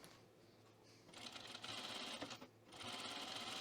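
Sewing machine stitching a Cashmerette Brattle top: a steady, buzzing run of rapid stitches that starts after a quiet moment, pauses briefly, then resumes, fairly close and constant.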